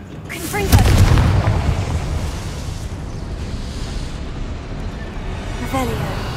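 A Confringo blast spell explodes with a loud, booming burst near the start in the Hogwarts Legacy video game, then a rumbling tail fades under music and ambience, with a softer magical flourish near the end.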